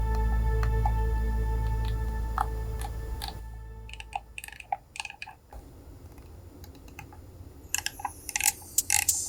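Crisp clicks and taps from the buttons and rotary encoders of a Simucube Savu Pro sim racing wheel, scattered irregularly and close, rising out of a low steady hum, then clustering more densely toward the end.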